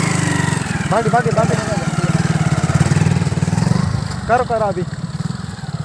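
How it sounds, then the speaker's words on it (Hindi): A motorcycle with a modified exhaust system throbs loudly in steady rapid pulses close by, swelling into revs, while people shout and talk over it. "पीछे बाइक आ रहे हैं भाई, रुको बर्नआउट करके देखो।"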